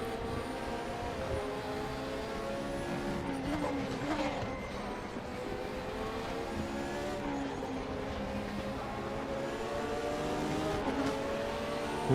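A race car engine in the RaceRoom Racing Experience video game at the Bilster Berg circuit roars continuously, its pitch rising and falling through gear changes, with faint tire noise beneath.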